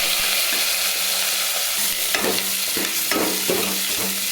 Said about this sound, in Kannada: ಒಗ್ಗರಣೆಗೆ ಸಾಸಿವೆ, ಇವಾಗ ಈರುಳ್ಳಿ ಮತ್ತು ಕರಿಬೇವು